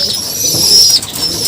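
Pigeons at a Filipino racing-pigeon loft, with a soft continuous coo-like murmur and a burst of wing flapping near the middle, fairly close, with no speech over it.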